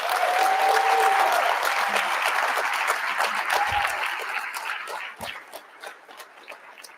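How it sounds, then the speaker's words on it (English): Audience at a civil rights conference bursting into loud applause and cheering, a dense wash of clapping that holds strong, then thins into scattered claps as it fades. "Let me hear you give a thunderous applause."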